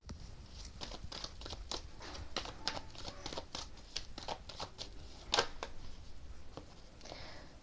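Tarot cards shuffled and drawn by hand at close range: quiet, rapid riffling and flicking strokes in quick bursts, with one sharper snap partway through and no talking.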